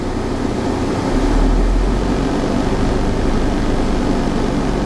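An engine with warm oil idles at a steady, even rumble, close and fairly loud. There is a brief swell in low-end throb near the start, and no voices.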